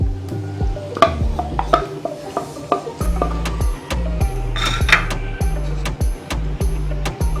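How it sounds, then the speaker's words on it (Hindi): A spoon stirs and scrapes through mutton chops in a pan with yogurt added after the flame is turned off, giving repeated close scraping and clinking strokes with a light sizzle beneath. "फ्लेम ऑफ करने के बाद हम इसमें 3 खाने के चम्मच दही डालेंगे।"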